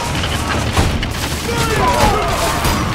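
Roman troops loose a volley in Ryse: Son of Rome, a dense rumbling battlefield din of booms and crashing impacts that runs without a break, with shouted voices mixed in.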